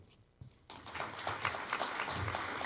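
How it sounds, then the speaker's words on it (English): Audience applause at the 2025 BRAVO Awards ceremony: after a brief quiet start, dense, steady clapping from a sizeable crowd rises abruptly and holds at full strength to the end. "How about another round of applause for Wendy?"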